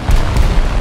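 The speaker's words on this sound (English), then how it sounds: "Alright, time to drop bombs." Aircraft-dropped bombs going off in War Thunder, a short, loud, deep boom with a rumbling low-end blast.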